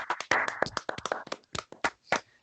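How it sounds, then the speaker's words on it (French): Hand clapping of a small group, a dense run of sharp irregular claps that thins into a few scattered, separate claps toward the end, moderately near, with no talking over it. "Est-ce qu'on peut applaudir tout le monde pour l'Upset of the Week"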